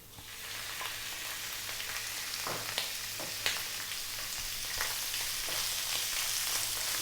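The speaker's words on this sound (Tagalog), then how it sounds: "Gigisahin ko lang po siya ng mga 3 to 4 minutes bago po tayo maglagay ng sibuyas at kamatis." Chicken hearts sauté in a hot pan, giving a steady close sizzle with occasional pops and stirring clicks, with no voices.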